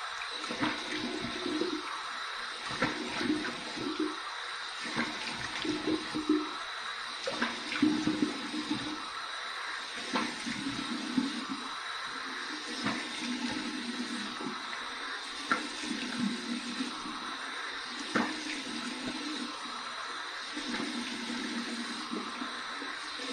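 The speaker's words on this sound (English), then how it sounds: "Here's my warm water rinse." Running warm water from a bathroom tap rinses a freshly shaved face, a steady faint hiss of flowing water with soft splashes and occasional louder spurts as hands move through the stream.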